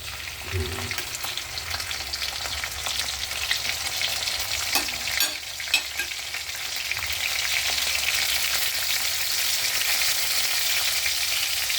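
Garlic and onion sauté for ginisang mustasa, a loud continuous sizzle with occasional spatula scrapes, one dull thud early on, and frying that swells and intensifies in the later half.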